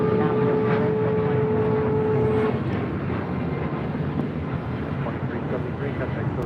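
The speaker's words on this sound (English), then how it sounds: "Next departure here on the south side is United Airlines Flight 2373 heading to Kona. It's a 737 MAX 9." United Airlines Boeing 737 MAX 9 departing LAX from the south side, a loud, steady broadband jet roar with a whining engine tone early on, wind buffeting the microphone throughout.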